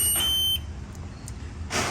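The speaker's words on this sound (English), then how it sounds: "There's cable's disconnected now, and there's the alarm." A temperature controller's disconnection alarm set off by an unplugged cable, heard as a sharp, steady electronic tone at the start, then a lull and a brief bright burst at the end.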